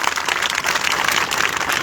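Steady applause from a rally crowd in Dabber, Nowshera, a dense wash of many hands clapping at once, continuous and fairly loud with no voices rising above it.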